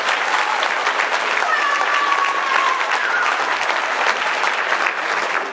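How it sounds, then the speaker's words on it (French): A concert audience in Roiffieux applauds loudly and steadily, dense clapping filling the whole stretch with a faint whistle or cheer rising briefly above it. "Donc, vous pouvez applaudir."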